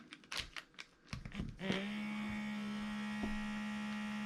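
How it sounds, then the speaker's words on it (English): Clicks and handling noises come first, then a FoodSaver cordless vacuum sealer starts and runs with a steady, faint motor hum as it draws air out of a bag, with no talk. "This is going to suck all this air out of here one more time."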